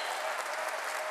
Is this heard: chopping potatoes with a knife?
no